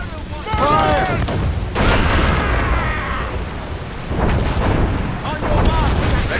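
Ship cannons fire in volleys during a naval battle in the game Assassin's Creed Rogue, with dense booming bursts under shouted orders and other voices, loud and continuous throughout.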